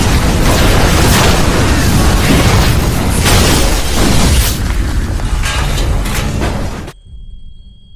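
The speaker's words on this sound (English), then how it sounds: "a sudden and powerful explosion occurred." A loud, roaring explosion with a rumbling, crackling blast that sustains for several seconds before cutting abruptly to near silence.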